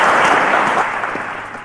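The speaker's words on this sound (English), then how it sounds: "a round of applause to all of you" Studio audience applauding quiz contestants on a televised quiz show: a short burst of dense clapping that slowly fades.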